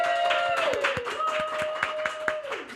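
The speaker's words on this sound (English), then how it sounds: "I was clapping for myself" A few podcast guests clap in a short burst of quick, uneven claps close to the microphone, with a steady tone and voices chatting underneath.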